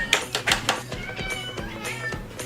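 A cat meows in a rapid run of short, sharp calls near the start, then gives a few more scattered mews, loud and close over faint background noise.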